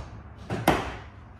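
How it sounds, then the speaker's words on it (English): The side door of a 2019 Ford Transit van shuts with a single close, loud, rattly thud, followed by a brief decay. "Oh, that door sounds horrible"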